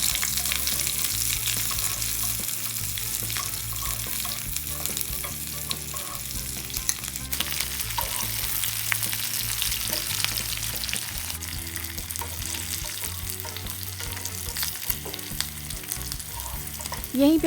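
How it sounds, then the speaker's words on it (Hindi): Onions and slit green chillies fry in hot oil for an eggplant bharta, a steady loud sizzle with occasional stirring scrapes and small pops, continuous and close with no talking. "हरी मिर्च को चीरा लगाकर तेल में ऐड कर देते हैं। अब इसमें प्याज को भी ऐड कर देते हैं।"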